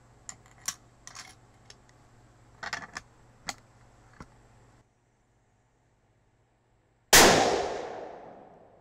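.22-250 Remington rifle firing a 50-grain Nosler Ballistic Tip load with Varget or H380 powder: one sharp, very loud shot bursts out and rings into a long decaying tail, preceded by quiet clicks and handling taps.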